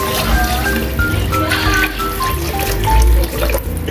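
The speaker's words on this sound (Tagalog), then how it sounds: "Tapos lagyan natin ng tubig." Water pours steadily from a tap or container into a cooking pot while pansit bato is being made. The splashing is close and continuous, with a brief louder gush near the end and no talking over it.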